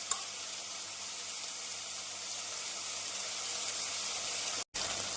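Stew ingredients sauté in a pressure cooker with a steady, loud, even sizzle that runs unbroken, briefly cutting out near the end before resuming.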